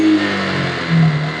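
Motorbike stuck on a slope, engine revving hard in short rising and falling bursts, loud and close.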